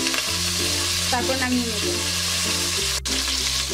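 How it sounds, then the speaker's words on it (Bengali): Chicken pieces for a chicken roast sizzle steadily in hot oil, a continuous close frying hiss with stirring scrapes and a brief clatter near the end, while a voice speaks briefly. "সবগুলো মাংস আমি এভাবেই ভেজে নেব।"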